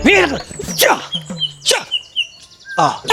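Sparrows chirp in a guava tree, a busy run of sharp, close tweets and calls throughout, with a dog whimpering and voices mixed in.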